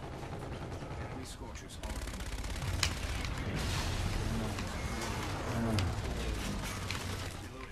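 Gunfire in the video game Call of Duty Infinite Warfare: dense overlapping shots and bursts over a constant rumbling game background, with a few sharper cracks standing out.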